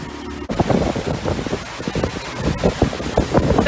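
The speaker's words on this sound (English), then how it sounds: "This is what we call waves." Small waves slosh against a sailboat on Lake Huron, with irregular splashes and water rush under steady wind noise on the microphone, close and fairly loud.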